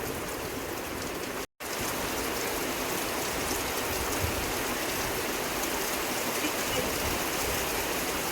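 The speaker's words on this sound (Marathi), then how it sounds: "खूप पाऊस पडतोय" Heavy monsoon rain pours down in a dense, even hiss that continues without a break apart from one momentary dropout, with no voices.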